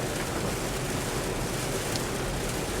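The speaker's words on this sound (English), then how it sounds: "we've just hit some heavy rains out here" Heavy rain pours down in a dense, continuous hiss heard from inside a Kia EV6 RWD GT-Line while driving, steady and loud throughout, with no voices.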